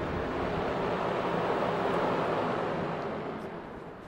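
A Milwaukee M18 18-inch brushless hybrid fan runs on speed three, a steady, loud, close rush of blowing air that holds even throughout and eases slightly toward the end.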